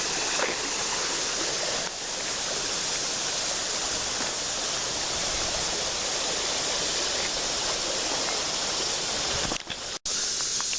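Creek water at Natural Bridge State Park in Virginia rushes steadily beneath a man-made footbridge, a continuous broad hiss of flowing water with a brief dip near the end.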